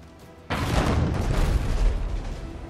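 A naval cannon fires at an enemy ship's mast in Abandon Ship, one sudden loud boom followed by a long rumbling roar that stays close and dense, with no talk.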